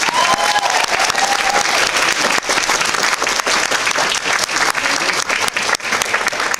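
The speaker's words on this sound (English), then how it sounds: "another round of applause for the third person" Sustained, loud audience applause fills a cosplay competition at Granite City Comic-Con 2018, dense clapping running steadily throughout with faint crowd murmur beneath.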